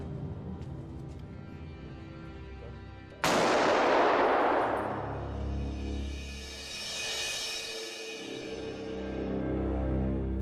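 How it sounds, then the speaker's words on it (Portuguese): A single Glock 19 pistol test shot bursts out loud and sudden, followed by a long ringing reverberant tail with a low rumble underneath and no talk. "Para demonstrar a força de uma bala disparada por uma Glock 19, são dados tiros de teste."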